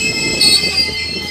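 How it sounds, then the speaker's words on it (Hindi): A train brakes by venting air pressure from its brake shoes, giving a loud, steady rail sound with a high metallic squeal over a broad hiss, close by and continuous. "जब ट्रेन को रोकना होता है तब ट्रेन का ड्राइवर ब्रेक शूज से हवा के प्रेशर को निकाल देता है"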